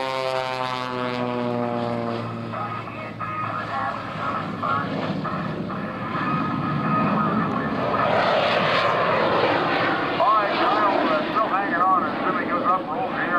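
A propeller aerobatic airplane roars past at about 170 miles an hour at an air show, with a rising, then falling engine drone, loud and close, with a voice talking over it.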